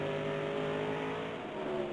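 NASCAR race cars running side by side on track, their engines forming a steady, loud drone that holds constant throughout with no voices.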